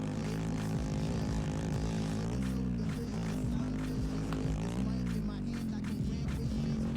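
An ATV engine roars continuously at high revs while racing in ATV Offroad Fury 4, a loud sustained buzzing drone with its pitch rising and dipping slightly as the throttle shifts.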